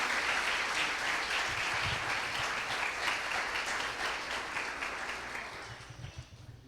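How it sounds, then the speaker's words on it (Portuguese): Congregation in a church service applauds steadily, a full room of hands clapping at even strength before gradually thinning and fading out toward the close. "Vamos aplaudir o Senhor por eles em nome de Jesus."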